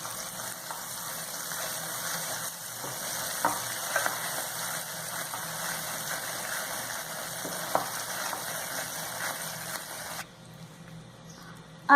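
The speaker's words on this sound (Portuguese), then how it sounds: "Está fervendo e agora a gente vai mexer bem." Bubbling, sizzling brigadeiro mixture just out of the microwave is stirred steadily in a bowl, giving a continuous close, frothy hiss with soft scraping, ending with a brief drop in level.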